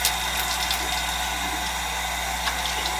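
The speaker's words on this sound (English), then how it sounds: "So I'm just going to rinse this off now." Water splashes steadily and close by as skincare product is rinsed off the face in a night-time skin care routine, a continuous broadband wash with a few brief sharper splashes and no talking.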